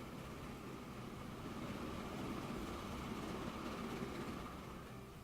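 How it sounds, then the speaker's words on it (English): A farm train rolls along the tracks in Transport Fever, a steady low rumble with faint clatter that holds at an even level the whole time and has no voices over it. "It's a farm train."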